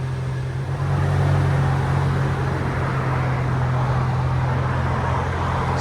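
A 2024 BMW X1 M35i with a 2.0-litre turbo engine in sport mode gives a steady, loud engine drone with a constant low hum and broad road roar, holding evenly throughout without talk.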